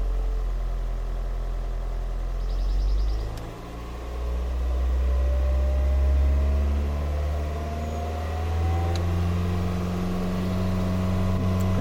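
A 2001 Toyota Yaris TS engine idles, then rises in pitch as the throttle is pressed, a steady mechanical drone that swells, dips briefly and holds higher for most of the stretch, close and alone.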